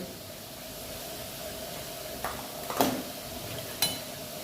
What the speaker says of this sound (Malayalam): നമ്മളെല്ലാം കൂടെ നന്നായി മിക്സ് ചെയ്യാം